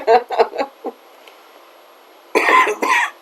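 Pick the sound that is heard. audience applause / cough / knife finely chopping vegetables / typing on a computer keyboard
cough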